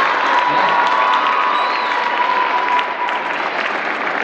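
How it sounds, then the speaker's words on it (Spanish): Broad, steady applause from a crowd at a band music concert, a continuous dense roar of clapping with some cheering and shouts, loud and sustained throughout. "aquí está su mamá de los hermanos Pastor, le vamos a dar un aplauso porque estamos en familia realmente nosotros"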